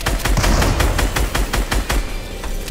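Rapid automatic gunfire in Fortnite, a loud, dense stream of shots fired in quick succession, close and continuous with no pauses and no voices.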